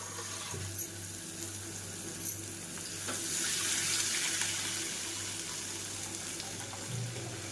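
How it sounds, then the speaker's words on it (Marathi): Water is poured into a hot frying pan holding sizzling spices, tomato and onion while spicy vermicelli is cooked, a steady hiss that swells into a louder rushing sizzle midway, then settles into an even bubbling. "त्याच्यामध्ये आपण पाणी टाकूया"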